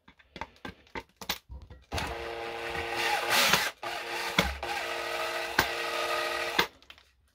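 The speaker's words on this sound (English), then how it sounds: "I'm going to use my drill just to get a bit of a better." A drill drives a screw into a plasterboard fixing, a close steady whirring grind lasting several seconds between short taps and clicks, with brief pauses and a sharp stop.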